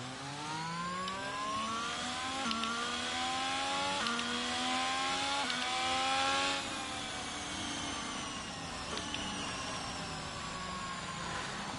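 A Ferrari Formula 1 car in the F1 22 video game, on the Singapore GP circuit, screams through repeated gear changes, its high-pitched engine note rising and dropping as it accelerates and brakes, fairly quiet and alone without talk.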